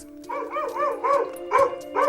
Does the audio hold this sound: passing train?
no